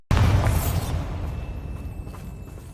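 A Bombarda spell explosion in Hogwarts Legacy bursts with a sudden loud boom, then a rumbling blast that slowly decays for a few seconds.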